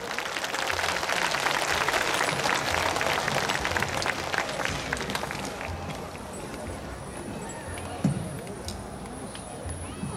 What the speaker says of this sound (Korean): 박수 함께 하겠습니다